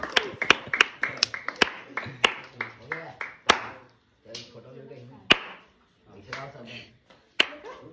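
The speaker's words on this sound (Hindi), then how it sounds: "ताली बजा दे" Several people clap hands at an outdoor song shoot, sharp scattered claps at first, then a few lone slaps, mixed in with people chatting and talking over them.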